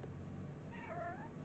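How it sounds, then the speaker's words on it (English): A cat gives one soft, short meow, fairly quiet against a low steady background hum. "that was cute, cutest little meow ever."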